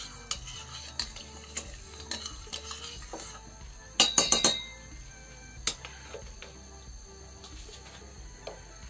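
Syrup mixture for basbousa stirred in a pot, with light clinks and taps of a utensil against the metal and a quick burst of scraping knocks midway, close and quiet, no talk.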